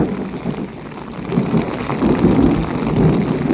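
Low rumbling thunder rolls beneath steady pouring rain during an August storm, the rumble swelling in the second half and staying loud and continuous with no voices.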